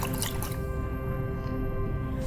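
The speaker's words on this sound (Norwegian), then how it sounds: "Rist kraftig." A stoppered glass flask of analyte diluted with distilled water is shaken vigorously for titration, giving close, continuous liquid sloshing and dripping over a steady background hum.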